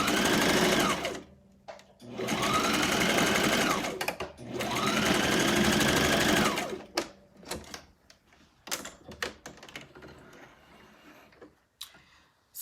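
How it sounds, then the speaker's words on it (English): A Brother sewing machine runs loudly in two long bursts of rapid stitching, then stops, leaving scattered clicks and light handling taps. "So the sewing machine that I'm using right now is one of the machines that I use for my trainings"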